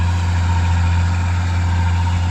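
An old excavator's heavy diesel engine idles steadily with a deep, constant low drone, close and loud, with no speech.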